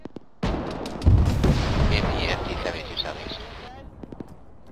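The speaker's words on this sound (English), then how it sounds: "Yep, auto cannon coming right through the open field southeast." Autocannon fire in a military video game, heard as a dense run of heavy booming shots that starts abruptly and rolls on loudly for several seconds, with a voice talking over it.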